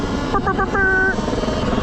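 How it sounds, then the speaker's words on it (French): Police helicopters circle over a Paris street parade for PSG, a low continuous rotor thrum under a busy crowd, with a brief whistling or shouted tone rising above the noise. "Bang bang, les hélicos, ils sont là."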